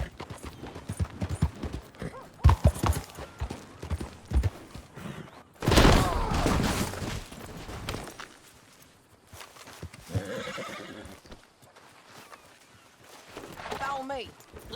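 Horse hooves clip-clop in Red Dead Redemption 2 as riders mount up and set off, rhythmic steps mixed with a whinny, a loud burst of movement midway and speech over parts.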